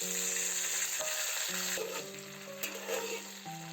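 Minced garlic and shallot in peanut oil sizzle gently over low heat as cooking wine is added, a steady close hiss with a few scraping stir sounds and no talking.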